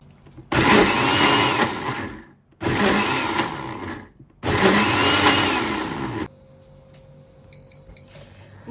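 A blender whirs through durian filling ingredients with soybean and liquids in three loud, steady bursts of a few seconds each, with short pauses between them and faint clinks afterward.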